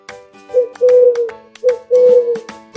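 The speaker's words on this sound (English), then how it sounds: "It's an owl. Owls love the night." An owl hoots in two repeated phrases, each a short note followed by a longer, slightly falling hoot, clear and fairly close against a quiet background.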